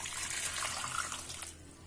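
Water poured into a pot while cooking mutton karahi, a steady close gushing splash that runs unbroken for about two seconds.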